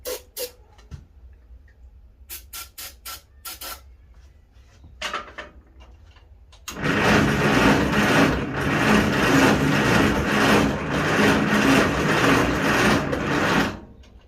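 International 300 Utility tractor engine on a weak battery, with a few clunks and clicks before a long steady cranking whir that runs for about seven seconds, loud and close, then stops.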